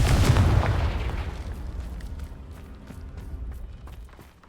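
A Confringo spell explosion in the Hogwarts Legacy video game bursts as a loud, deep boom, then its rumble fades over several seconds, with a few faint crackles trailing behind.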